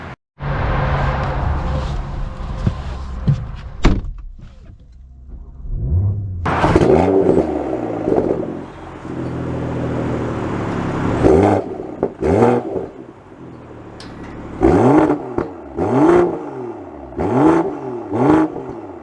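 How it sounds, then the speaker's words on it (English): A 2024 BMW M440i fitted with the M Performance exhaust starts up and accelerates, loud engine revs rising and falling through several gear pulls with deep exhaust rumble, close and without talk. "This has the M Performance exhaust, so that's why this sounds louder."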